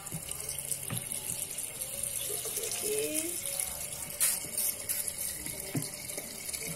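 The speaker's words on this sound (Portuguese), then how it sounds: "E vou encher até o milho ser coberto com a água." Water runs steadily from a tap into a pot of corn, a continuous splashing stream with a few faint clinks in the background.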